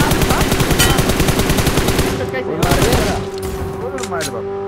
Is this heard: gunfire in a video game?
yes